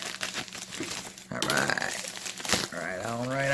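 Product packaging for a TOPGREENER motion sensor ceiling light being cut and ripped open, with close crinkling and tearing bursts, a louder ripping stretch midway, and a voice speaking over the handling.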